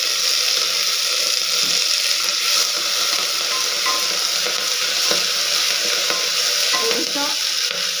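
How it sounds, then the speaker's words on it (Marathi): Fenugreek leaves sautéing in a pan with cumin, giving a steady close hiss and sizzle throughout, with faint stirring clicks and no talk. "मेथी परतून घेऊ थोडी."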